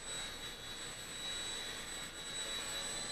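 High, steady whine of an Esky 150X mini RC helicopter's electric rotor hovering close by indoors, then landing, with a constant buzzing tone and no pauses.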